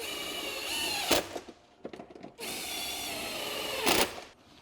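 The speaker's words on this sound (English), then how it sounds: "I'm using power tools for efficiency." A cordless power drill runs in short bursts while fastening a battery hold-down on a Yamaha golf cart, whirring spins with a sharp burst of tightening at the end of each, separated by clicks and handling noises.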